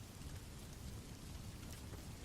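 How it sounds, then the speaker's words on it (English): Steady November rain patters against the Gothic windows of a cathedral, a dense, even hiss that stays soft and unbroken throughout. "The November rain created a steady percussion against the Gothic windows of Gotham Cathedral as Bruce Wayne made his way through the anci"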